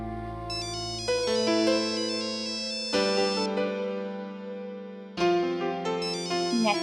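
A phone ringtone plays a bright electronic melody with stepped, chiming notes that restart in phrases, clear and close with no talking over it.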